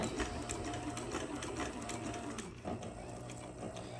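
Sewing machine running steadily while top stitching a bag, a continuous close mechanical whirr with a fast needle rhythm, alone without talk.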